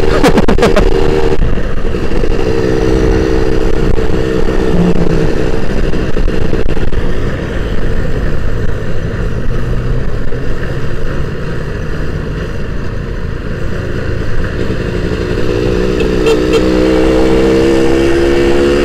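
A Suzuki Satria 120 R two-stroke motorcycle engine roars loudly nearby, revving up through rising pitches, easing off, then climbing again in another pull.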